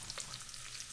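Ginger and garlic sizzle steadily in a frying pan, a continuous close hiss of hot oil with small crackles, no talking over it.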